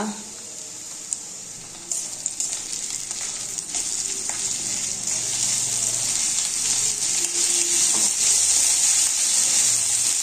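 Ginger and garlic paste fries in a pan of hot oil for a korma, giving a steady sizzle that grows louder and fuller after the paste goes in, with occasional stirring scrapes.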